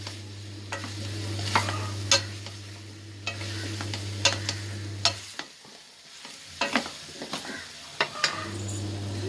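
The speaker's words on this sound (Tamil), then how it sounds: "அப்படியே வதங்கட்டும். முருங்கை சேர்த்துடலாம்." Garlic and drumstick pieces for garlic kuzhambu sautéing in a pan, a soft steady sizzle broken by frequent scraping stirs of a spoon, with a low hum that cuts out partway through.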